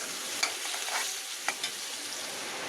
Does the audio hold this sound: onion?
yes